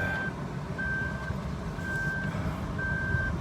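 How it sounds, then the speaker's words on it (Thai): Seatbelt reminder in a 2015 Suzuki Lapin chimes as four evenly spaced, thin electronic beeps over the steady hum of the moving car's road and engine noise. "รถญี่ปุ่นสมัยนี้แม่งเตือนให้คาดเข็มขัด"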